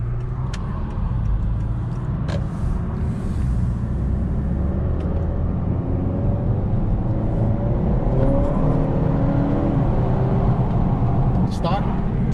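A Honda Accord Sport turbo under full throttle, its engine drone rising steadily from inside the cabin with road rumble beneath and a person talking over it.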